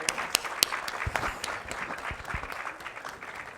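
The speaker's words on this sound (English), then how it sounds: "Let's welcome them with a huge round of applause." Audience applause welcoming two women authors onto the stage at a literature festival book launch, a dense patter of many hands with sharp individual claps standing out, steady and moderately near throughout.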